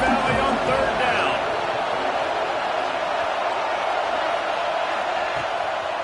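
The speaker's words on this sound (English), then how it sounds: "Here comes the noise from this big crowd in Happy Valley on 3rd down." A big college football crowd at Happy Valley roars on third down during Penn State vs Oklahoma State, a loud, sustained wash of cheering noise with a voice briefly heard near the start.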